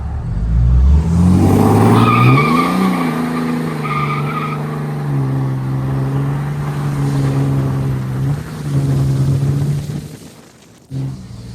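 A 1,000 horsepower Cummins diesel pickup does a rolling burnout, its engine roaring loud and close with tires squealing and rising, then holding a steady howl before dropping away near the end.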